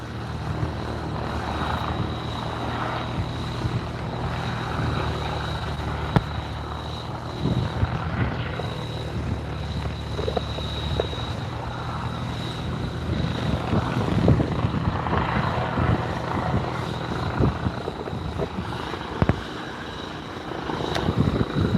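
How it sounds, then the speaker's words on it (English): Northwest Air Ambulance helicopter landing at Barton Aerodrome, a steady, fairly loud rotor and engine drone that holds throughout with slight swells, and no talking. "Northwest Air Ambulance landing back into Barton."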